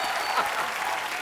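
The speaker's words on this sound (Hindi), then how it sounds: "एक बार जोरदार ताली होनी चाहिए।" Loud, dense applause from a studio audience at a comedy talk show, a steady wash of clapping that holds throughout without pause.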